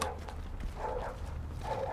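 A dog in The Division barks and yips a few times over a low game hum, sharp short calls spaced unevenly, fairly close.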